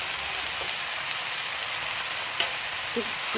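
Bottle gourd greens, potato and eggplant, salted and dusted with turmeric, fry in a pan while being stirred, giving a steady, even sizzling hiss broken by a few light scraping clinks near the end.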